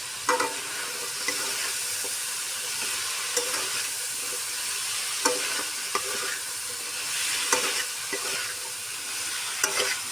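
Prawns and taro stolons fry in a pan while being stirred, a continuous bright sizzle broken by periodic scraping strokes of a spatula at a steady pace.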